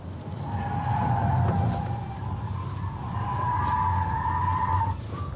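A Genesis GV60 electric luxury car in drift mode, its tires squealing in two long sustained skids with a low rumble of road noise beneath, fairly close and loud, no voices.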